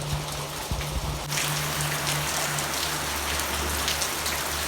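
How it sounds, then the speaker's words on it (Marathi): Steady rain drips and patters from the roof tiles of a Konkan village house, a dense continuous wash close by, with a low hum underneath. "इथे कंटिन्युअसली पाऊस तुम्हाला घराच्या कवलावरून गळताना दिसत असे"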